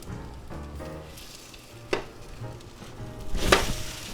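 A beef, onion, pepper and cheese quesadilla sizzling in a pan, a soft steady sizzle with a few sharper clatters and knocks of cookware, no talking.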